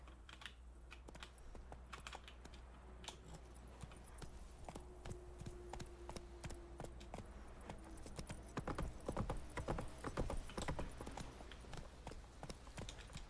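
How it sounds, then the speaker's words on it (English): Horse hooves clip-clop in a rapid galloping rhythm within a video game, a faint, steady patter of quick hoofbeats with a brief higher tone partway through. "Come on, Roach."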